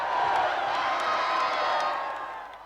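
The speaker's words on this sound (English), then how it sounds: "The biggest cheer and a few tears were for John Longmire" An Australian football crowd at Melbourne Park roars and cheers in one sustained burst, a broad wash of voices that fades toward the end.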